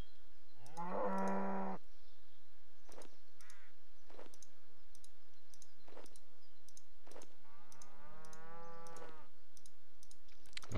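Cows in the video game RuneScape let out two drawn-out moos, one near the start and a longer one near the end, with sharp periodic game clicks ticking throughout and no talking.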